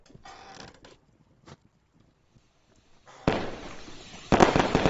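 Fireworks burst inside the VR game A Township Tale, with a faint early pop followed by two loud, crackling explosions that erupt close by near the end.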